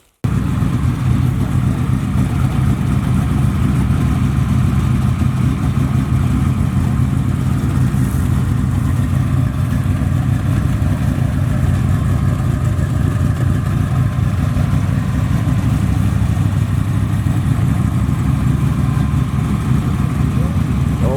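A rebuilt motor in a big-rim box Chevy runs steadily and loudly at idle with a constant low rumble for the whole stretch, close by and unbroken.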